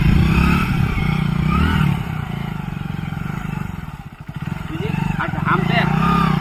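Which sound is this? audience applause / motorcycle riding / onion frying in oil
motorcycle riding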